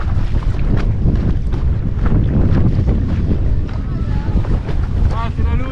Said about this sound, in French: Juste à la fin du matos, il y a eu le petit coup de vent,